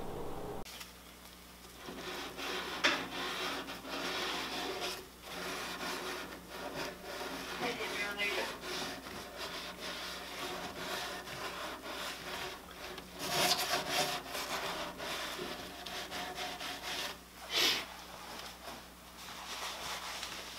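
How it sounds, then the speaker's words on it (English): Steady, close scratchy rubbing as a toothbrush scrubs wax and dust buildup from the feet of an old wooden dresser, continuous with a few louder strokes. "we're gonna scrub the feet, and we're gonna do that with a toothbrush"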